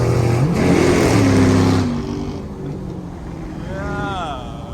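A loud, deep car engine rumble like a diesel truck, with a rising rev early on, then settling to a lower drone as the vehicle eases off, with voices faintly mixed in at a car meet.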